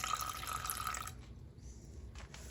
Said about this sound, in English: First, I'm going to add a splash of orange juice.